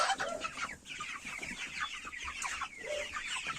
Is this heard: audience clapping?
no